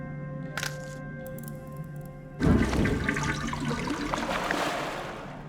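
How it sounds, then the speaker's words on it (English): Water gushes suddenly from a burst pipe in The Inner World, a loud rush that breaks in after a quiet hum and keeps pouring and splashing steadily until the end. "The water pressure caused the pipe to burst."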